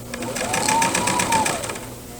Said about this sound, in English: When I get to the end, I'm going to back stitch again.